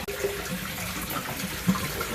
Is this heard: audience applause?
no